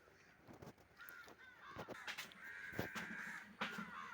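Crows caw in a home garden, a series of harsh, fairly faint calls repeating irregularly over quiet outdoor background, with no talking.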